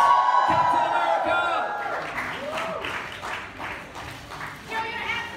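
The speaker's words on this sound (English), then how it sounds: "Big round of applause for the Cap himself, Chris Evans!" A crowd at a Captain America: Civil War premiere event in Singapore applauds and cheers loudly for Chris Evans, with whoops and shouts over steady clapping and a voice calling out.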